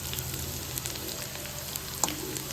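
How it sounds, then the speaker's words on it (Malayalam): Oil sizzles and crackles steadily in a pan as jackfruit pieces fry toward crispy chips, a close, even hiss with small pops and no talking. "ഞാൻ ചട്ടി എടുത്ത് വെച്ച് എണ്ണ ഒഴിച്ചതാ പൊടിക്കാൻ ഇട്ടിട്ടുണ്ട്. ക്രിസ്പി ആവണ വരെ പൊടിച്ചെടുക്കാം."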